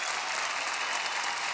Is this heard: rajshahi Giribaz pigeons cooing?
no